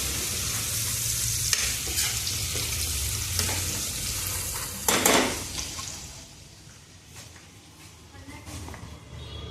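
Onions frying in a pan, with a loud continuous sizzle and stirring scrapes close up, fading somewhat toward the end, while people talk nearby.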